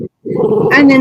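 A Rottweiler growls close by, a low rumbling growl that rises into a whiny, higher-pitched tone, following a brief spoken word.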